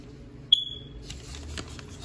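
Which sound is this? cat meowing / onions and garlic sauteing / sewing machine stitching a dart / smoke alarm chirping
smoke alarm chirping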